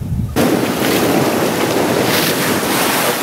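A sailboat running under spinnaker on the North Atlantic, with strong wind buffeting and rushing waves forming a loud, steady roar with no voices.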